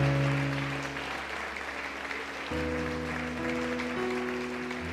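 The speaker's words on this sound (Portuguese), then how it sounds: "Dá uma salva de palmas para o Senhor." Church congregation clapping for the Lord during a worship service: broad, sustained applause runs throughout under held keyboard or organ chords, moderately loud and steady, with a chord change midway.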